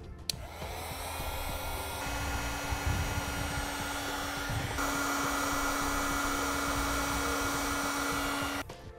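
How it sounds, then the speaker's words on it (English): A heat gun blows steadily to shrink heat-shrink butt connectors on trailer brake wiring, a continuous close whooshing hum with a brief change in pitch midway and no talk. "Now we'll use a heat gun, which we have available on our website, to shrink down our heat shrink butt connectors."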